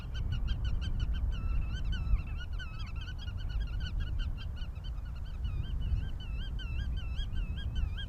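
A dense flock of geese honks continuously over farmland in the Netherlands, many overlapping calls forming a loud, steady chorus over low rumbling wind or background noise.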